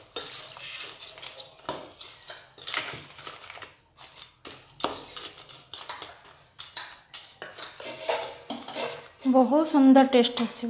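Curd being stirred into brinjal in a pan, a steady run of wet scraping and clinking spoon strokes with soft sizzling, a voice speaking over the mixing.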